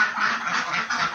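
Ducks on a farm quack steadily in their pen, a dense, continuous chorus of many birds close by with no pauses.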